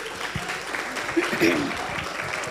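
Audience applause greeting a speaker at a business talk, a short burst of steady clapping from a seated crowd at moderate volume.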